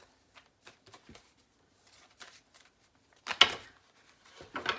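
A deck of cards is cut and handled on a table, producing sparse soft taps and riffles followed by a short louder flurry of card noise, close and quiet, with no talking.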